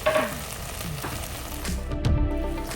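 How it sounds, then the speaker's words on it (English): Tomatoes and mushrooms sauté in a pan for a mushroom pulao, a close steady sizzle with a few stirring scrapes and clinks. "At this stage, I'm going to add the tomatoes and saute them so the tomatoes are nice and soft."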